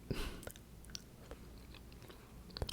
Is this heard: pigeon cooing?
no